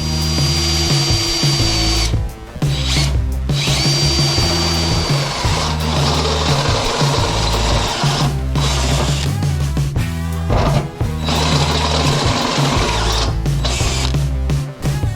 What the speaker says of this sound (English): where we need to drill the holes